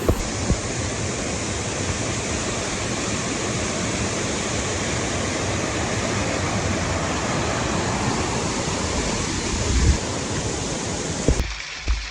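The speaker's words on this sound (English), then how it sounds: "I thought I'd stop and show you this gorgeous waterfall" A waterfall roars in a steady, dense rush of water, loud and unbroken, with a couple of small knocks near the end.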